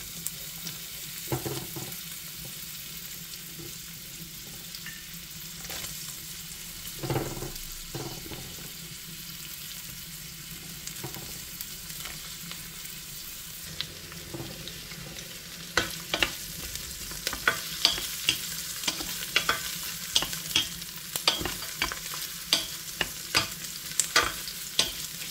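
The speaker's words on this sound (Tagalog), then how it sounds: "Pag mainit na, so lalagyan na natin ang ating onion." Onion sautéing in a hot pan (kawali) while cooking chicken apritada, a soft steady sizzle broken by scraping stirs that grow more frequent and clattery toward the end, close with no talk.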